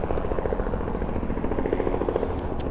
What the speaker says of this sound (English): some helicopter flying somewhere.